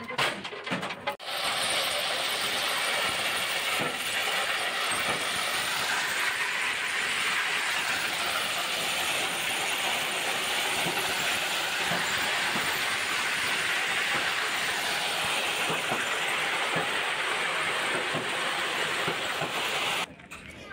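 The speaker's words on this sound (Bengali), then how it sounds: "দক্ষ শ্রমিক দাদারা কিভাবে কঠোর পরিশ্রমের মাধ্যমে মালগাড়ির মুখ থেকে পাথর দুপাশে বের করছে" Loud, continuous rumble and grinding of a freight train unloading stone ballast to both sides of the track, with rattling metal and scraping, steady throughout with no voices.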